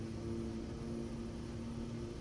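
A simulated aircraft engine throttles up for the takeoff roll in a flight simulator, heard as a steady, low, even drone that stays constant throughout, with no voices.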